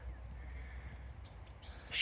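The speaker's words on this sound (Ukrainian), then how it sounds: "щебечуть на кожному кроці. Синички, сойки, чижики і багато різних." Wild forest birds such as tits, jays and siskins call on a rainy day, thin faint chirps and a few brief calls over low rumbling background, distant and scattered.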